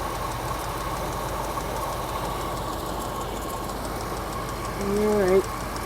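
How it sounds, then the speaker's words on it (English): A cold classic car engine idles with a steady low rumble and faint knocking, a brief rev swelling near the end, while a person talks over it. "It seems to be idling pretty well."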